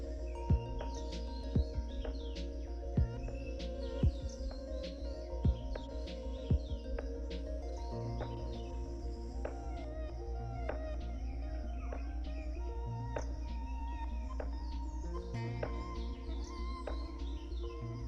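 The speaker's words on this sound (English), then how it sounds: "It flits from branch to branch, chirping contentedly." Indian paradise flycatchers chirp and tweet repeatedly in short bright calls over a steady low hum, with occasional sharp clicks scattered throughout.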